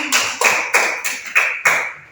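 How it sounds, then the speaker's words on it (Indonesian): Applause in a classroom comes as six sharp, evenly spaced claps or taps from a small group, close and crisp, with no talking. "Beri tepuk tangan untuk bahasanya dan balanya."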